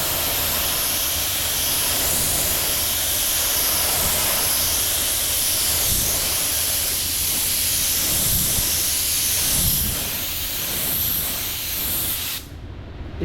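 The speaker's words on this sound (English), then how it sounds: "I will spray it out a little bit." A paint spray gun hisses steadily while spraying a small spot repair on a car body, a continuous close airy spray that runs for about twelve seconds before cutting off abruptly, with no talking.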